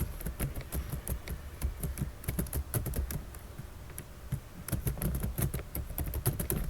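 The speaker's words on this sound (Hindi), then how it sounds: "तो चलिए टाइप करते हैं।" Fingers type rapidly on a computer keyboard, a close, steady run of light clicking keystrokes with brief pauses between bursts.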